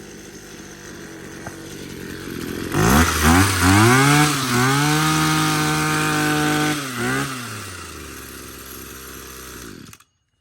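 Gas-powered string trimmer engine running close by, idling steadily, then revved up in two rising bursts before settling back to idle and cutting off at the end.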